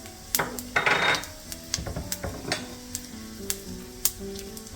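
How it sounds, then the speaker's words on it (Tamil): Mustard seeds then fennel seeds sizzling and crackling in hot oil, with sharp pops scattered over a steady frying hiss and a few metal utensil clinks, close and moderately loud. "எண்ணெய் சூடான பிறகு கடுகு போடுறேன்."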